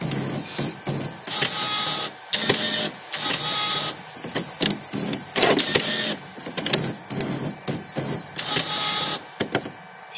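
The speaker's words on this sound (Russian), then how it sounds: "Голова запарковалась." A Brother MFC-525W inkjet printer's mechanism whirs and clicks in short bursts as the print head parks, motors starting and stopping repeatedly, close by with no talking.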